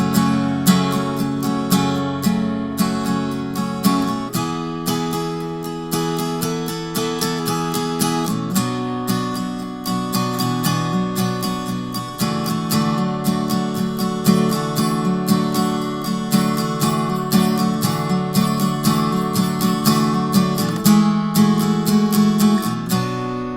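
An acoustic guitar plays the bridge of a song at a slightly slowed pace, steady downstrokes ringing through chord changes for the whole stretch, with no talking.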